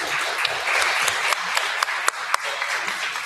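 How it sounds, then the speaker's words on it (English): Audience applause at a League of Women Voters candidate forum in Ottumwa, a steady wash of clapping with a few sharper individual claps standing out, moderately loud throughout. "Everyone, please give them a round of applause and thank them"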